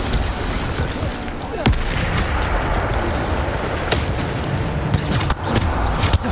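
Bombarda spell explosions in the video game Hogwarts Legacy, loud booming blasts with sharp cracks landing every second or so amid a continuous rumbling battle din, close and forceful.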